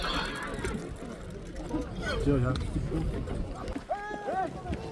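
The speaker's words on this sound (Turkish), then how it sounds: "Bu Tölögen ekanın atı" A horse whinnies during an ulak (kok-boru) horseback game at Sary-Bulak, a high, wavering neigh near the end, heard over loud, continuous voices and crowd commotion.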